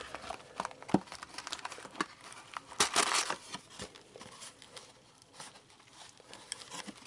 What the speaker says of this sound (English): If it wants to open, please open.